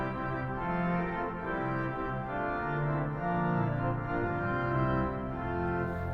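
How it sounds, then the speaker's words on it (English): A 1906 Felgemacher pipe organ plays with every stop of the choir manual drawn, giving a full, sustained chordal sound that moves through held harmonies at an even volume. "I've pulled all the stops of the choir, and it sounds like this"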